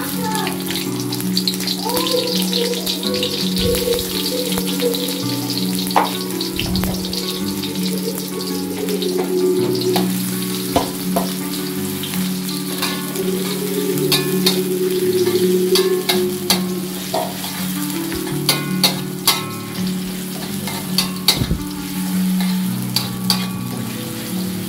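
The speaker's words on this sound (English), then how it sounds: "Stir fry the big onion." Big onion stir-fries in a hot pan for a home-cooked egg and tomato dinner, giving a loud, continuous sizzle with frequent scraping and clinking of a utensil against the pan, and faint voices in the background.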